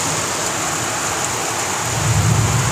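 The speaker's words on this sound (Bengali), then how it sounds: "বৃষ্টি এসে গেছে। মাঝে মধ্যে ঝোড়ো হাওয়া দিচ্ছে, হালকা হাওয়া দিচ্ছে, তার সাথে বজ্র বিদ্যুৎ সহ" A thunderstorm over West Bengal, with steady heavy rain hissing continuously and a low rumble of thunder building toward the end, loud and close with no voices.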